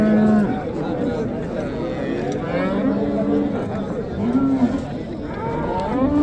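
Cows moo repeatedly among a crowd of chattering voices at a livestock market in Quva, the lowing rising and falling close by over constant background noise.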